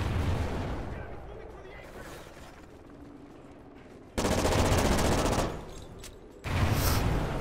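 Gunfire in the Call of Duty Ghosts shooter, loud sustained bursts in two blocks late in the clip, with quieter game noise beforehand.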